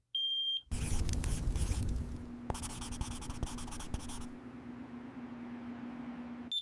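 A household smoke detector sounds one shrill, steady beep at the start, followed by several seconds of rustling, scratchy noise with no voices.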